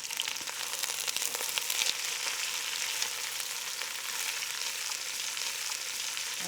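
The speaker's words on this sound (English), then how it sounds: "You just kind of want them to sweat in there" Onions sweating in olive oil in a pan over medium heat give a steady, close, soft sizzle of fine crackles that continues evenly throughout, with no voices.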